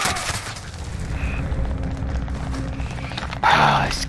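Gunfire in the video game Rebirth Island, dense rumbling battle noise with distant shots and booms under a steady din, swelling louder near the end.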